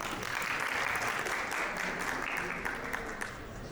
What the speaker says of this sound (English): Should we clap for him, please?